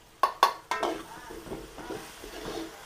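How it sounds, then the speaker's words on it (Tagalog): Meat being sautéed in a pan for a Filipino dish, with a few sharp metallic clanks of a utensil at the start, then a soft steady sizzle with light stirring scrapes. "Igisa po natin yung ating karne."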